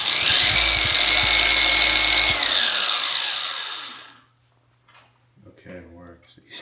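A new polisher is switched on for a test run before compounding a faded Volvo, giving a loud, steady high whine that spins down and fades out over a few seconds. Brief talk follows in the quiet.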